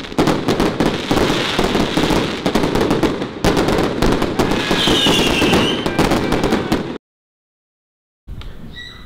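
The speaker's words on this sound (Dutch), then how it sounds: "Het zijn 10 keer een knal nitraatcake." Rapid volleys of loud firework bangs from a nitrate cake crackle in dense succession, a brief whistle rising midway, then a sudden silence before a final burst.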